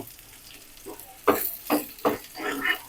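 Dried chili and meat sizzle and hiss in hot oil as a chicken kala bhuna is tempered, with several bursts of stirring and frying growing louder after a quiet start.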